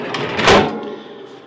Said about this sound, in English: Catch here for the slide out drawer.